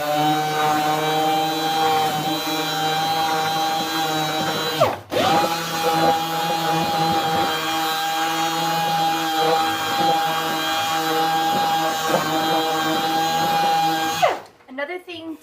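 Power sander running steadily on painted wooden furniture being refinished with wax, a loud close whine that cuts out briefly near the middle and again at the end.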